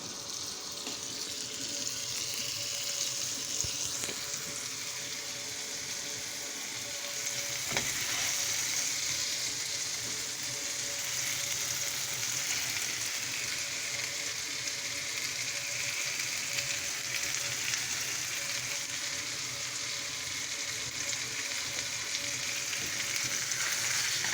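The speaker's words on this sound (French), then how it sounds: "je les fais cuire dans ce sens-là, farce vers la poêle, vers le chaud" Stuffed vegetables fry stuffing-side down in a hot pan, giving a steady, loud sizzle that runs throughout with a few light clinks and small bursts, no voices present.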